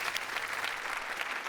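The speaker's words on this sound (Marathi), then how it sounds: "जोरदार टाळ्या केदार सरांसाठी झाल्या पाहिजेत." Audience applause in a television comedy show studio as a guest director arrives on stage, dense rapid clapping from a crowd, steady and fairly loud throughout.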